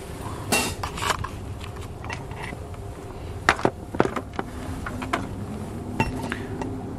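Small plastic car fuses are pushed into a fuse extension socket, making sparse sharp clicks and light clinks against a low steady background, with no talking.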